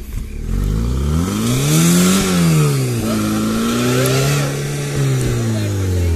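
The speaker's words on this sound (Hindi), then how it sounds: "सो अपनी गाड़ी जो है चढ़ रही है, एक बार देखते हैं।" Maruti Ritz car reversing up a steep hill, its engine revving hard and loud with rising and falling pitch as it strains, under a voice speaking nearby.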